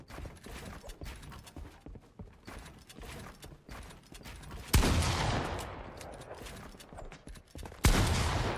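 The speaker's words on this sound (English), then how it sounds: "Shotgun shot coming in." Two loud, sharp shotgun blasts ring out in a Fortnite boxfight tournament match, each followed by a decaying echo, over a busy background of rapid in-game footsteps and clatter.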